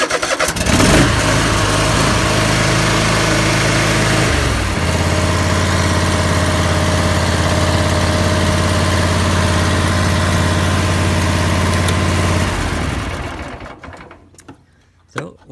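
A Troy Bilt riding zero-turn mower with push-button start cranks and fires up, then settles into a loud, steady engine idle that runs for several seconds before cutting off and falling quiet near the end.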